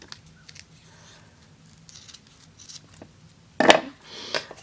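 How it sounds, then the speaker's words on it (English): Scissors snip through ribbon while a hair bow is made, one crisp cut standing out sharply near the end after a stretch of quiet handling. "pull this around and measure and make sure it's long enough, and then cut it"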